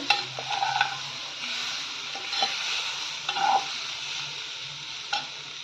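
Onion stalks fry in a pan with a continuous sizzle, broken by repeated clinks and scrapes of a spatula stirring them, close by and with no talk.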